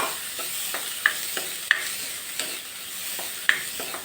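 Boiled sweet corn kernels being stirred into a pot of corn soup base, with soft scraping stir strokes and a few sharp clicks of spoon on pot over a steady low simmer hiss, no talking.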